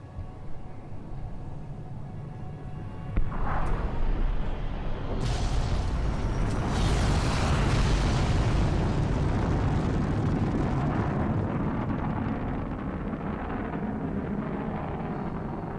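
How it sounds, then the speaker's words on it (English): A nuke launches in Fallout: New Vegas Lonesome Road, a loud rising roar that swells into a long rumbling explosion, sustained and heavy before slowly easing off. "Next, we are launching our first nuke."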